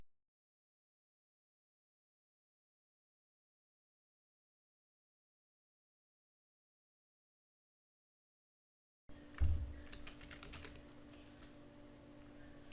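Computer keyboard typing, a faint run of quiet keystrokes starting after a long silence and continuing to the end, with a short louder tap at the start.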